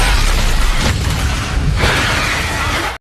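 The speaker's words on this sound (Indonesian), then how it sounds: "Beberapa saat kemudian si bom pun aktif dan meledak" An ultraviolet bomb explodes in the Blade film with a loud, dense roaring blast and rumbling noise that swells in waves for about three seconds, then cuts off.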